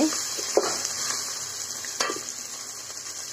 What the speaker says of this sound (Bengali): আদা রসুন পেস্ট। এটাকে কিছুক্ষণ ভেজে নিতে হবে।